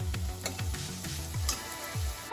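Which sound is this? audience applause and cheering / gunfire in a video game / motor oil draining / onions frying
onions frying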